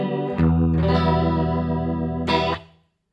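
A Joyo DC15S practice amp plays an electric guitar chord with its chorus effect at the highest setting, giving a thick warbling, rotary-like shimmer; a second strum lands midway before the chord rings out and decays to silence.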